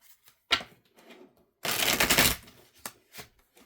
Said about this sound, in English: So I'm just going to shuffle the tarot a couple times